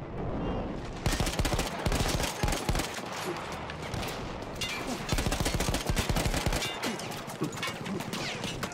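A mounted machine gun in Battlefield 1 fires long, loud, sustained bursts that run almost without pause, with dense rapid reports under a constant battlefield din.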